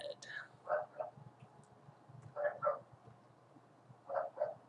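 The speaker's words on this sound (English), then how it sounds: "And we have barking dogs once again." Several short barks in bursts of two or three, moderately distant, with quieter background murmur between them.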